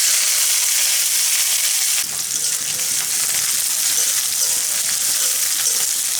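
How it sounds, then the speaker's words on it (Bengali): Onion and garlic fry loudly in hot oil already seasoned with cumin, dried red chili and bay leaf, a dense, continuous close-up sizzle with a slight shift as the pan is stirred, and no talking. "পেঁয়াজ আর রসুনটা একটু ভাজা ভাজা করে নেব"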